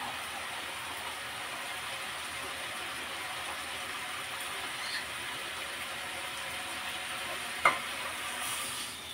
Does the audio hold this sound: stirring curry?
yes